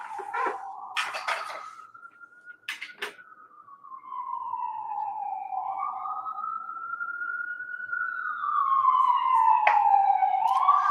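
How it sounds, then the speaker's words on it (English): A wailing emergency siren sounds outside, its pitch sweeping slowly up and down in long continuous glides, moderately loud and fairly close, with a few brief clicks and knocks over it. "it's not a webinar unless we hear the sirens"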